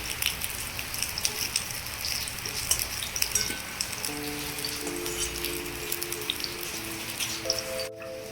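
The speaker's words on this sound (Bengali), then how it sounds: "মাছ আমার ভাজা হয়ে গেল এবার আমি নামিয়ে দিচ্ছি" Pona fish frying in hot oil on a gas stove, a steady close crackling sizzle with dense popping throughout, without any talk.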